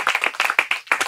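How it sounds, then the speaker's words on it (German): A small studio audience claps briefly for a podcast guest, a quick burst of several hands clapping close by with an uneven rhythm, without speech. "Erstmal Applaus."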